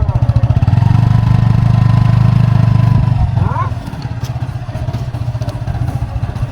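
A motorcycle engine idles with a steady low putter, then eases off and keeps running more quietly.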